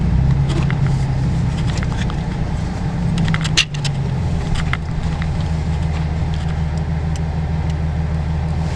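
A Nissan 370Z sports car pulls out from a driveway, its engine a steady low rumble with a faint mid-range hum, close and continuous with no talk.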